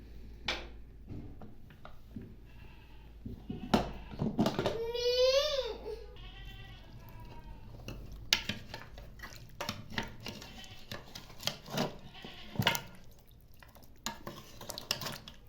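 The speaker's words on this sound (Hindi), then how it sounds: "अब प्रेशर कुकर को खोलते हैं" A pressure cooker being opened after cooking beef trotters, with metallic clanks and scrapes of the lid and pot, a brief rising whine partway through, then more scattered clinks and knocks in a quiet kitchen.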